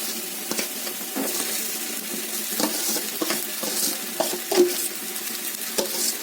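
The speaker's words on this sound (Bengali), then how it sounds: "পেঁয়াজটা একদম নরম করে ভাজা হয়ে গেছে, ব্রাউন করে। তো আমি ওর মধ্যে হচ্ছে আলুটা দিয়ে দেবো" Potatoes added to soft, browned onions frying in a pan give a close, steady sizzle broken by repeated scraping and tapping as the mix is stirred.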